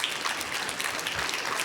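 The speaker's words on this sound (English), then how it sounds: "Big applause, Sini," An audience applauds at a Formnext additive manufacturing expert session, a moderate wash of clapping throughout with no talk over it.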